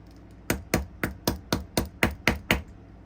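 Nine light, evenly spaced taps strike a part of a Boom Racing BRX02 D130 RC car chassis during the build, each one crisp and close in a quiet room.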